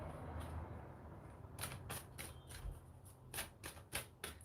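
Tarot cards being shuffled by hand make soft papery riffles and flutters in short bursts. The start is quiet, and the bursts grow denser in the second half, close and faint.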